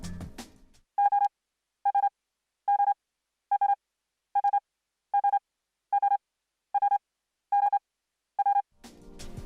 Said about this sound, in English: use a continuous sound or locked groove, which I have looped up here for this demonstration